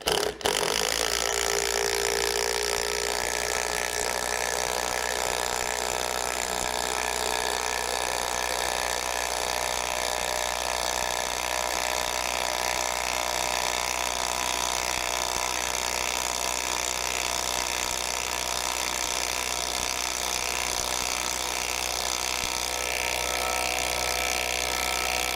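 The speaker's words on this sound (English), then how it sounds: "we will go ahead and screw this right down with the lag bolts" A ratchet drives lag bolts into a wooden anvil stand with a fast, continuous mechanical clicking and whirring that stays loud and steady for about twenty-five seconds, with no speech.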